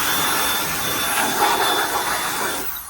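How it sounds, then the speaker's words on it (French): A cordless battery-powered blower, built from a drill base with a fan grafted on, runs steadily with a broad rushing whoosh, close and loud, then cuts off near the end. "c'est un espèce de souffleur un peu plus puissant que le souffleur à feuilles, avec un peu plus de débit"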